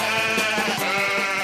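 Sheep in a horror-comedy film give a loud, close, wavering bleat that holds unbroken before cutting off abruptly.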